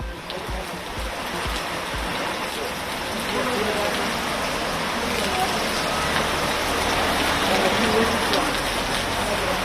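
Heavy rain pours down during a funeral procession in Kallakurichi, Tamil Nadu, a loud, steady, dense hiss of downpour that continues unbroken with no voices.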